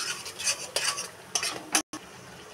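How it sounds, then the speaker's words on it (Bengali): Coriander and cumin powder masala being fried and stirred in a pan, with bursts of sizzling and scraping strokes from a spoon, close and fairly loud, ending in a brief cut. "2 চামচ জিরে গুঁড়ো দেব, দিয়ে মশলাটাকে ভালোভাবে কষিয়ে নেব"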